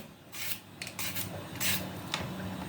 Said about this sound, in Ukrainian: О, і перчик, гляньте, як тоненько ріже.